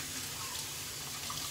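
Tap water runs steadily into a sink while shaving soap is rinsed away, a constant soft rushing wash with no pauses and no one talking.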